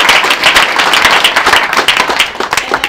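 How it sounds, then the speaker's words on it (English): A crowd applauds loudly at close range, sharp individual claps merging into a brisk, continuous round that tapers slightly toward the end. "So big round of applause for Jay."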